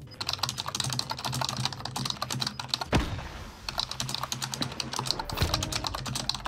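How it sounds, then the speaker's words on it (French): Rapid mechanical keyboard key clicks, the loud typing picked up by a Twitch streamer's microphone, run steadily and close with a brief pause near the middle and a low hum beneath. "il n'est pas rare de tomber sur un stream où on entend ces fameux clics que font les touches des claviers mécaniques"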